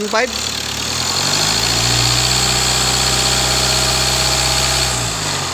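A 2019 Hyundai Tucson's D4HA diesel engine idles close by after fuel-knock troubleshooting, holding a steady, even rumble. A brief voice is heard at the very start before the engine settles into a loud, constant hum.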